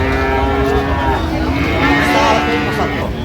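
Sahiwal cattle at a livestock market in Dinajpur, a loud, long, close moo over crowd noise.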